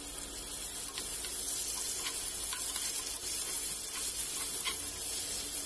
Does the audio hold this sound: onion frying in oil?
yes